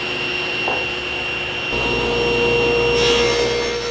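A SawStop table saw resaws a wood board, a steady whining motor hum that deepens as the blade bites the wood partway through, loud and close with a rasping cut, no voices.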